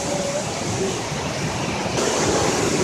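Steady broadband roar of the first falls at Mambukal, a waterfall rushing without pause, loud and close, filling the whole stretch with continuous white-noise wash and no break in level.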